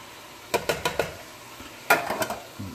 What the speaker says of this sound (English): So we saute the meat a little bit, not too much, just a little bit.